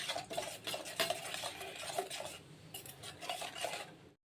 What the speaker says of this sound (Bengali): এবার আমি জল দিয়ে এটাকে গুলিয়ে নেব